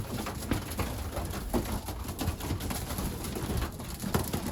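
Young racing pigeons released from their loft for a first flight, with soft cooing and scattered wing flutters over a steady outdoor hiss at moderate, even loudness.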